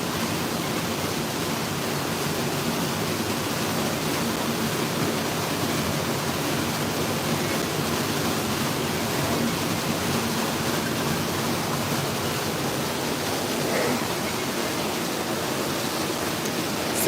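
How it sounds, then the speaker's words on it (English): A waterfall inside the Wonders of Wildlife aquarium and wildlife exhibit, where beavers live, gives a constant broadband rush of falling water that stays steady and fairly loud with no voices over it. "So this waterfall right here is what that beaver was at."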